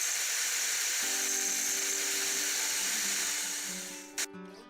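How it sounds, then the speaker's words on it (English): A tool grinds away the thread of a tractor top link end held in a vise, making a steady high hiss with a whining tone that fades near the end, followed by a brief knock. "With one of the top link ends held in a vise, I start grinding away at the marked thread."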